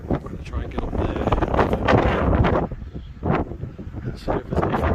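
Strong wind buffets the microphone on an open hillside during a hike, roaring in broad, continuous gusts that swell and dip, with faint talk partly buried underneath.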